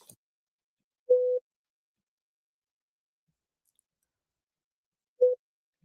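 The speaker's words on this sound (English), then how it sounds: "let's get past these beeps" Two short mid-pitched electronic beeps on a livestream audio feed, about four seconds apart, each clear and isolated against near-total silence.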